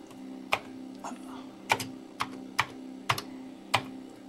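Commodore 64 keys, including the return key and space bar, pressed one at a time, about seven sharp plastic clicks spaced irregularly over a low steady electrical hum, with a voice briefly heard.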